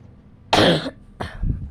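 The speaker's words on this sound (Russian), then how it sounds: "Не люблю кашлять." Two close, loud coughs from one person, a sharp first burst followed by a second, rougher cough with a throaty tail, no speech around them.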